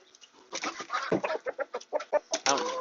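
Chickens in a humid coop, with exhaust fans running, cluck and squawk in a rapid string of close, agitated calls.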